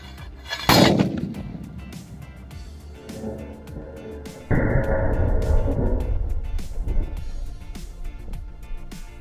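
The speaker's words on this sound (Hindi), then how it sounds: "ऐसा जोरदार धमाका था" A sulfur-potash pipe gun fires with a sharp, loud blast, followed by a rumbling tail, then a second heavy boom that lingers and slowly fades, with scattered crackles afterward.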